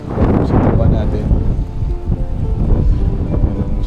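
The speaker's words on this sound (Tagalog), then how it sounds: "Pero yun nga, whole day malakas ang hangin." Strong wind buffets the microphone on an island coast, a loud, gusty low roar that rises and falls, with a voice talking faintly underneath.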